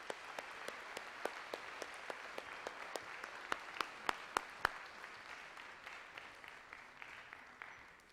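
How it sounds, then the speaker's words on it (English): Concert audience at a junior high band spring concert claps for the band, a continuous wash of applause with several sharp, distinct nearby claps standing out in an uneven rhythm. "So if you give them a round of applause for that."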